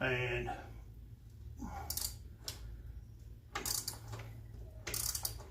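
A ratchet wrench loosens the rear bolts while a DK Custom tank lift is installed. Close, quick clicking bursts come in several separate runs of ratcheting, with brief speech at the start.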